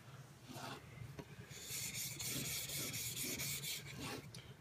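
The flat back of a rusty chisel is rubbed back and forth on a flattening stone, giving faint gritty rasping strokes in an uneven rhythm, close and quiet, with no talking.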